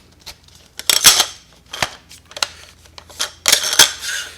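Close, sharp plastic clicks and scrapes sound in short bursts as a Plott Carta measuring wheel is slid into its handle and seated in the notch, with quiet gaps between the handling noises.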